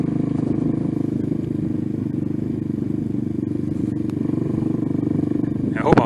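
A Venom Ghost 250 motorcycle engine heard while riding, a loud steady droning buzz with constant road clatter that holds even throughout, ending in a brief burst of scraping noise.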